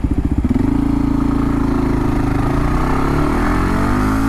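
A big-bore single-cylinder motorcycle pulls away and cruises at highway speed, its thumping exhaust settling into a steady, loud drone close to the rider, with no speech.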